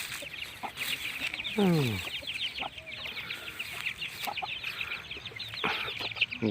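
A flock of domestic chickens clucks and chatters continuously close by at morning feeding, with occasional louder squawks and a brief rising call standing out among them.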